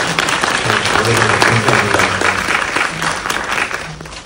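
Cinema audience applauding at a Korean film talk event for the movie Face, steady dense clapping filling the room throughout, with a few voices and cheers mixed underneath.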